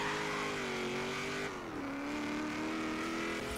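Car engine in the Forza Horizon 3 racing video game, a steady loud hum whose pitch drops sharply at a gear change, then holds level again, with no talking.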